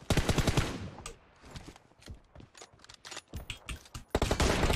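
Rapid bursts of automatic gunfire in a shooter video game, dense loud volleys with brief pauses between sprays, near and sharp, ending in a sustained barrage.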